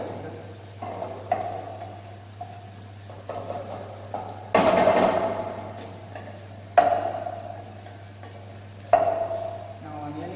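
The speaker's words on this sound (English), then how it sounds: "Stir it continuously and check the sides." A spoon scrapes through thick green hariyali gravy in a pan during large-batch cooking in a training kitchen, giving repeated rhythmic stirring strokes and a soft sizzle over a steady background hum.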